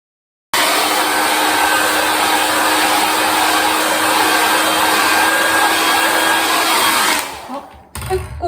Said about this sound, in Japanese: ではね、ドライヤーで温めていきます。